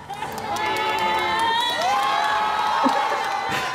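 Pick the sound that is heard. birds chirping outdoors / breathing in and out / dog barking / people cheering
people cheering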